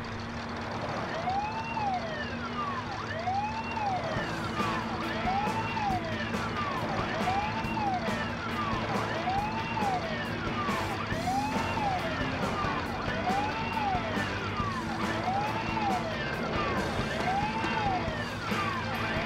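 A wailing siren rises and falls steadily in repeated cycles over a constant rumbling engine, continuous and moderately loud throughout.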